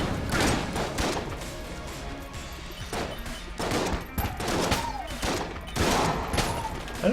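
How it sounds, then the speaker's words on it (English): Repeated explosive blasts and gunfire-like bursts from the video game Enter the Gungeon, loud and dense, arriving in several clustered waves with thuds and crashes and no pause between them. "I don't know what this explosion is."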